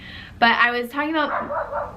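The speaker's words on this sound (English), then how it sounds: "Sorry for the dogs barking again" Dogs bark in the background behind someone talking in a room, a few short yips and barks rising under and around her voice.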